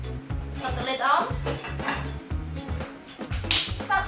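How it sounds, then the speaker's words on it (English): A metal lid clanks onto a pot of rice and water, with several rattling knocks and clinks of cookware at close range in a kitchen, a voice speaking between the sounds. "Put the lid on."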